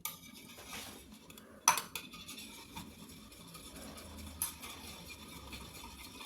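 A spoon stirs a thick herbal shampoo mixture with shampoo base in a bowl, soft scraping and rubbing with a few sharp clinks against the container, close and fairly quiet, no talking.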